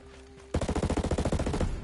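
A rapid burst of automatic rifle fire in Ghost Recon Breakpoint, about a dozen sharp evenly spaced shots in just over a second, loud and close, after a brief quiet lead-in.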